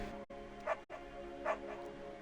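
Beagle in the video game Firewatch giving two short barks, about a second apart, against a steady low game ambience; no one talks.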